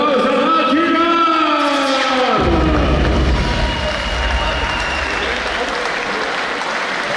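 Crowd at a fighting event applauding and cheering loudly, a continuous roar under an announcer's amplified voice, with a deep boom entering partway through.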